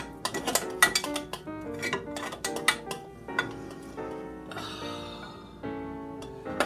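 A utensil stirs lavender essential oil drops into melted soap in a container, giving light, irregular clinks and scrapes at close range with no talking.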